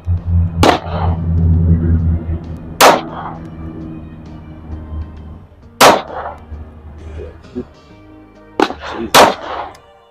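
Pistol shots from a Glock 43x and a PSA Micro Dagger ring out at a range, five loud, sharp cracks spaced a few seconds apart, the last two close together, with a low engine-like hum and faint chatter between them.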